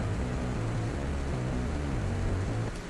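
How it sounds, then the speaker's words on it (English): A bass guitar runs through a fuzz pedal in Logic, playing a thick, distorted low riff of short repeated notes buried in dense, hissy saturation, heard alone at a steady level. "I've got a fuzz machine pedal running on there too."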